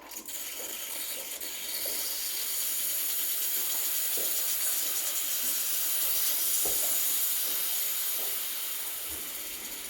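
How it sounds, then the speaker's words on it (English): Steam wand of a Breville Barista Express BES870 espresso machine hissing in a steady, fairly quiet broadband rush, with a few faint clicks and knocks from the machine underneath. "I'm just showing you that the steamer works."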